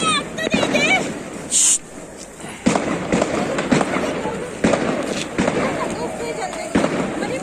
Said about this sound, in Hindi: वो उधर उन्होंने पटाखे चलाए हैं